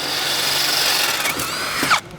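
A regular power drill bores out a bolt hole to about a quarter inch in a chain link gate panic bar, a loud steady whine for about two seconds before stopping abruptly.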